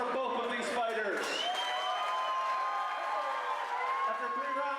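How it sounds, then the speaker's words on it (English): Crowd applause and cheering for two fighters after a featherweight bout at an event center, a broad wash of clapping and whoops under a loud announcer's voice throughout. "Ladies and gentlemen, a big round of applause for both of these fighters."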